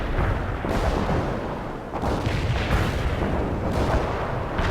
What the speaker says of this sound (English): I've got a payload of cluster bombs and I'm on the way.